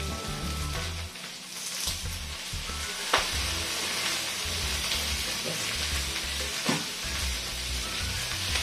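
Mixed vegetables with kikiam and squid balls sauté in a hot pan, a steady crackling sizzle running throughout, broken by a few sharp scrapes and clacks of a utensil stirring.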